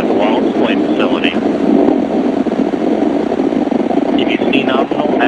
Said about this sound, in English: Engine start. Liftoff of the Antares A-ONE test mission from the Mars Pad 0A at the Wallops Flight Facility.